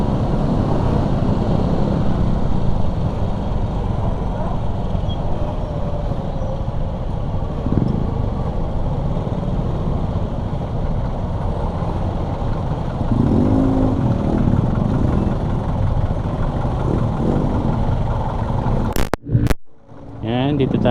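Motorcycle ride beside heavy traffic on C5 road at night: a continuous loud engine and road drone with passing vehicles, under steady talk from the rider, ending in sharp clunks.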